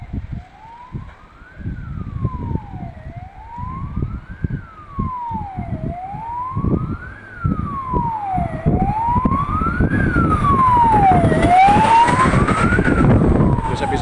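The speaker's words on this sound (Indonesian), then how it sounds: "mendengar suara sirene mobil pemadam kebakaran, ketakutan berlari." A fire engine siren wails up and down in a regular rising and falling cycle on a street in Aceh, growing louder as it nears, with traffic rumble underneath.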